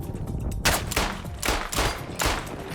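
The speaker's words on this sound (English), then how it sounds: "the pistols fire quickly" Rapid pistol fire in a shooter video game: several quick bursts of sharp gunshots, loud and close, arriving in a steady rhythm about every half second to second with no talk.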